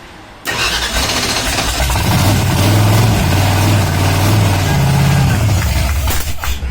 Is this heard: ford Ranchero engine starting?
yes